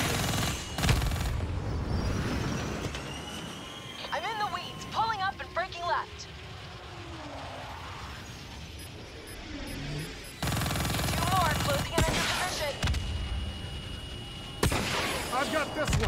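Gunfire in Call of Duty: Black Ops III rings out in bursts amid a dense combat mix of explosions and aircraft noise, with voices and radio chatter speaking over the action.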